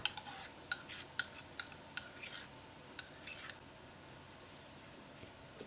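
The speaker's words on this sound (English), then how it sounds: "Stir it in well. Mix it nicely together." Yogurt being stirred into quail curry in a pot, with a series of quiet, regular clicks and scrapes of a spoon against the pot over a soft background hiss, fading out toward the end.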